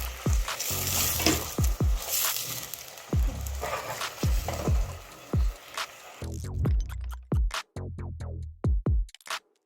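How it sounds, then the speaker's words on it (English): Onions frying in a pan for African vegetables (mrenda, kunde and mito), with loud continuous sizzling and repeated sharp scrapes and knocks as they are stirred; the sizzle drops away for the last few seconds, leaving isolated stirring clatters. "So I love frying the onions while mixing them up."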